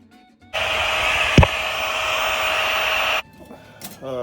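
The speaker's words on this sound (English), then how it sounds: "So as soon as that bolt head is ground down, we should be able to pop this side right off." Angle grinder cutting down a bolt head on the rear luggage rack of a Checker Cab A4, a loud steady high-pitched whine held for about two and a half seconds, with a brief clank partway through and quieter shop noise after.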